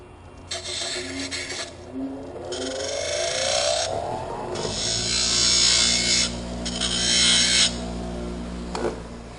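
Plastic scraper being sharpened for auto back-glass work, giving close, loud rasping and scraping strokes in bursts with short pauses, then a steadier grinding stretch; no one talks.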